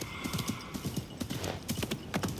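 Horse hooves clip-clop steadily over stony ground in Baghdad in the video game Assassin's Creed Mirage, a close, regular rhythm of hoofbeats with a faint whinny mixed in.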